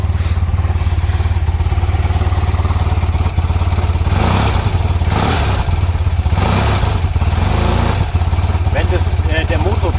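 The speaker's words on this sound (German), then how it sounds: "Dann hören wir uns mal das Rasseln und das Klackern an." Cold boxer motorcycle engine idling steadily with a rattling, clacking mechanical beat, loud and close throughout, with a few faint surges in the middle.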